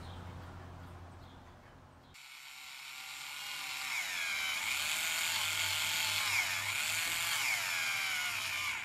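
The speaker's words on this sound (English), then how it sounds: "why am I drilling a little hole in there about the same size as the hole that's in the deck" A small power drill bores a little hole into the wooden deck of a scale model ship, its high steady whine starting abruptly and holding close and loud for several seconds.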